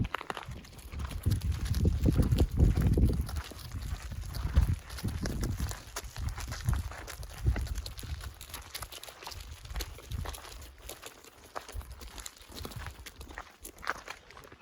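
Donkey hooves clop in an uneven walking rhythm on desert ground, heavier at first and then lighter, mixed with rustling and scuffing outdoors.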